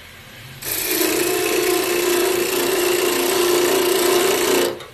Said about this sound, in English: shave it down a little